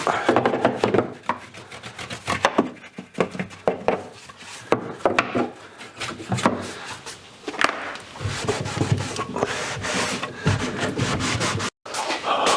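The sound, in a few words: cleaning out a hand tool with a small brush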